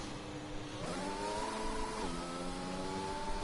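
Race car engine revving hard in an Azerbaijan circuit racing video game, a loud sustained mid-pitched whine that steps up and shifts pitch twice, steady and close with no talk.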